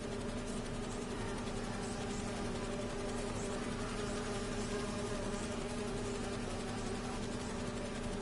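Bees buzz in the Spider-Man 2 video game, a continuous dense droning hum lasting throughout with no break, steady and fairly faint, with no voices.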